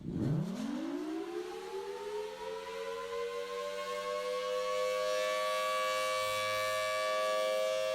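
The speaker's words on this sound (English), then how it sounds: "That is the Federal Signal Thunderbolt siren" A Federal Signal Thunderbolt mechanical civil defense siren winds up from a low growl into a loud, sustained rising wail, steady and alone with no voices.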